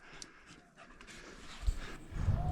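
Hunting dog on a wild boar drive panting close by with quick, rough breaths, plus a soft whimper and some handling bumps toward the end.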